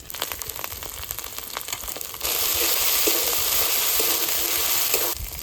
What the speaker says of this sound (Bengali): একটুখানি আদা বাটা এবার ভালো করে ভেজে নেব